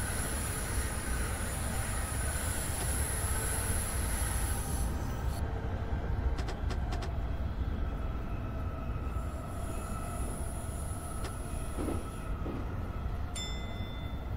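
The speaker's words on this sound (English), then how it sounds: "there is another train passing me down there" A passing train in Train Sim Classic on a Tokyo commuter line (Keihin-Tohoku/Utsunomiya) gives a steady, loud rolling rumble, with thin metallic wheel squeals that come and go over the wheel noise.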